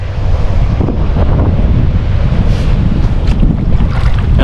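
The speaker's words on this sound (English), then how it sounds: "it's really windy" Strong wind buffets the microphone beside Willow Lake in Johnstown, Nebraska, a steady loud roar with low rumbling gusts and waves lapping underneath, continuous throughout with no voices.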